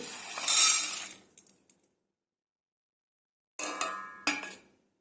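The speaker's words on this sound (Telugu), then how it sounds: "ముందుగా ప్యాన్ పెట్టుకొని ఇవి వేసుకొని నేను ఫ్రై చేసుకుంటున్నానండి" Coconut chutney ingredients are tossed dry in a pan with no oil over medium flame, making close, sharp clinks and scrapes of a utensil against metal in two short bursts separated by silence.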